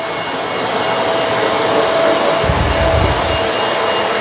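A Bissell Multi Clean Allergen Pet vacuum cleaner runs with a loud, steady whining roar, and a brief low rumble partway through as it picks up dirt.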